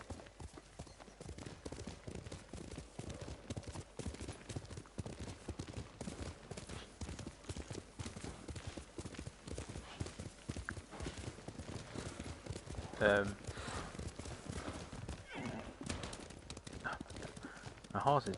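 Horse hooves trot in a steady clip-clop rhythm through the Ghost of Tsushima video game, close and continuous, with talking and game ambience layered over the footfalls.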